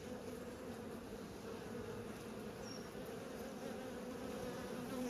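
Honeybees buzz steadily around an opened wooden hive whose frames are being inspected, a constant, moderately faint droning hum with no talking.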